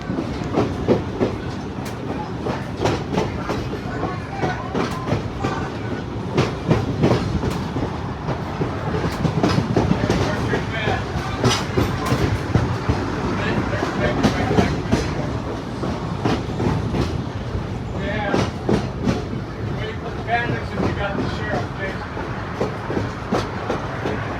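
Heritage excursion train on the Niles Canyon Railway rolling along the tracks, a steady rumbling ride with repeated clickety-clack wheel beats and car rattle, close and continuous, with faint voices now and then.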